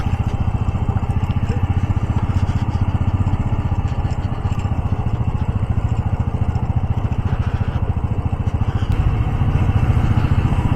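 A motorcycle engine runs steadily and close, with a rapid even throb that holds at a constant idle-like pace throughout, briefly rising near the end.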